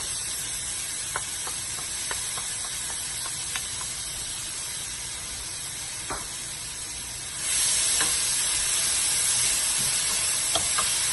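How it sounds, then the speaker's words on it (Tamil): Grated carrot sautéing in a pan over a slow flame for a carrot cheese dessert, giving a steady soft hiss with faint scattered crackles and ticks, growing slightly brighter partway through, no talking. "நல்லா ஒரு 5-10 மினிட்ஸ்க்கு கேரட்டை நல்லா பச்சை வாசம் போக சாட்டே பண்ணி எடுத்துக்கலாம்"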